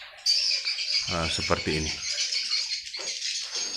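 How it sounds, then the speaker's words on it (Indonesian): Recorded swiftlet calls play from a speaker inside a converted swiftlet house room, dense shrill chirping and twittering that runs throughout, with someone speaking over it. "Suara tiruan dari burung walet."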